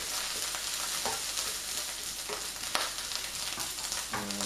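Garlic, chilli and onions stir-frying to golden brown in a pan for a satay chicken stir fry: a dense, steady sizzle with scraping stirs, heard alone.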